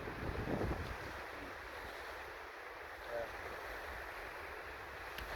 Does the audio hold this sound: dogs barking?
no